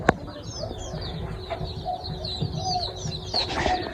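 Young native chickens on a small poultry farm give a steady stream of high peeps and soft clucks, close by, over a low farmyard background with a sharp knock at the start.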